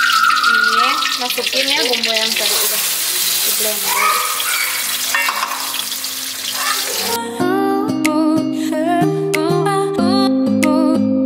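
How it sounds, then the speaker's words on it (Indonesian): Blended spice paste sizzling and sautéing in hot oil in a home kitchen, a loud bright hiss for the first several seconds before the sizzle gives way to music. "Nah, ini ditumis sampai harum, sampai benar-benar harum ya"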